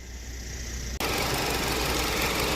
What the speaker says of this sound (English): So, still got a misfire.